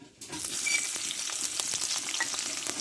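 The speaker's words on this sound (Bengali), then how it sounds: "পেঁয়াজটা একটু ভালো করে ভেজে নেবো" Chopped onion fries in oil with panch phoron, dried red chilli and a bay leaf, giving a loud, steady sizzle that starts abruptly and carries on with stirring scrapes.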